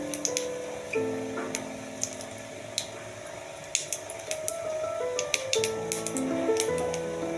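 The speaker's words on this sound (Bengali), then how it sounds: "জিরেটা একটু ভাজা ভাজা হয়ে যাক" Whole cumin seeds frying in hot oil in a kadai, a soft continuous sizzle dotted with small sharp pops and crackles, close and moderately quiet with no talk.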